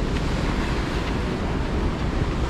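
Continuous broadband roar of ocean surf on Australia's Gold Coast with wind buffeting the microphone, steady and fairly loud, no voices.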